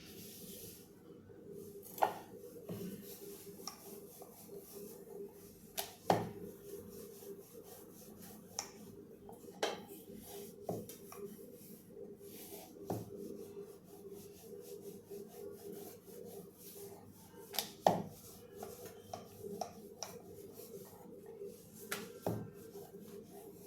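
A rolling pin works moong dal puri dough thin on a board with soft, steady rubbing strokes and occasional light taps, quiet and close, and no talking.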